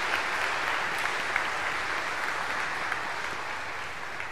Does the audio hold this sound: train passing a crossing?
no